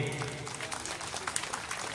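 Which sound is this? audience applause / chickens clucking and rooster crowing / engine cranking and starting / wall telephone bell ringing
audience applause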